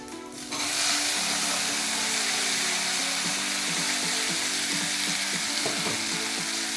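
Onions and curry leaves sauté in a pan, giving a strong, steady sizzle with light scraping from stirring throughout.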